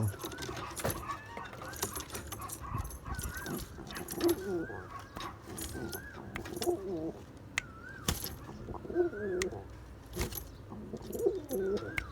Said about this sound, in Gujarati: એટલે જો આ રીતના આપણા કબૂતર છે કાંક